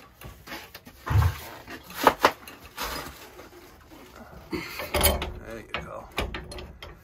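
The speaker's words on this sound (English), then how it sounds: "you're going to hold back with the larger wrench" A wrench tightening a pipe fitting on a gas-fired Burnham boiler, with close metallic clicks and ratcheting scrapes in short bursts while two people talk nearby.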